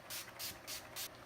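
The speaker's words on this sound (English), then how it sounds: "I am going to set my face with the Urban Decay All Nighter Spray." Urban Decay All Nighter setting spray mists onto a face in four quick, soft hissing bursts, evenly spaced and close but faint, with no talking.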